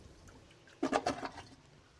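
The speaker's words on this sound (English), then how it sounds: "Slowly build up to stronger and stronger pulses with the plunger." A plunger pumps water in a clogged toilet, giving a brief burst of several quick sloshing, gurgling pulses at close range, then quiet.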